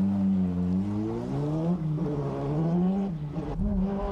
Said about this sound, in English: now he learns the new handbrake technique in the Subaru